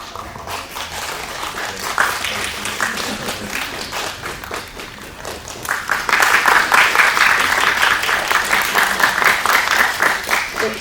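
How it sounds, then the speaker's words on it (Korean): An audience at a press screening for a Korean film applauds to welcome guests, dense sustained clapping that swells louder halfway through and carries on to the end. "큰 박수로 맞이해주세요"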